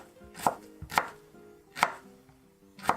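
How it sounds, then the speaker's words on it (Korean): A knife chops vegetables on a board for Japanese hiyashi chuka cold ramen: four sharp, close strikes spaced unevenly over a few seconds, with no talking. "이렇게 칼질이 서투면"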